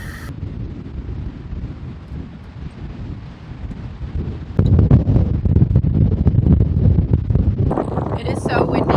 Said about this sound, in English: It's just that windy.